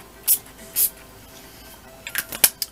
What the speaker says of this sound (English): I just used the Urban Decay All Nighter Makeup Setting Spray.